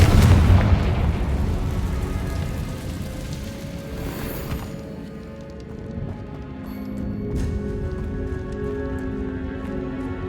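Fiery blast from the Confringo spell in Hogwarts Legacy, a loud booming burst at the start that rolls into a dense, crackling rumble and slowly fades under ongoing game ambience.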